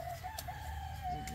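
Chickens in Lithuania cluck and call close by, with brief bird squawks over a steady low background hum.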